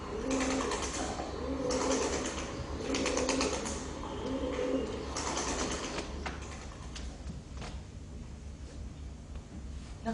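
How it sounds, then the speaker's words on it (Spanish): Pigeons coo in a repeating rhythmic burble on a street, several soft pulsed calls in succession over steady background noise, with occasional wing flutters. "el canturreo de las palomas me perseguía"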